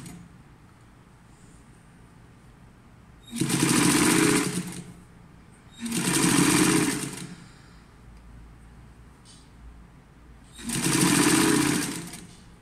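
A sewing machine stitches a blouse seam with a one-centimetre allowance in three loud, steady whirring bursts of two to three seconds each, separated by quiet pauses, close by with no talking.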